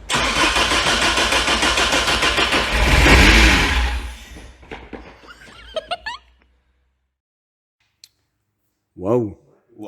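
A Volkswagen Golf Mk2 G60 with an RS supercharger cranks over and catches, its engine revving loudly for a few seconds before cutting out, followed by quiet and brief voices.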